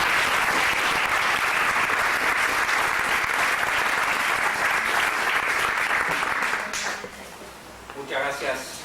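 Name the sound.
audience applause for guest Dr. Anthony Coates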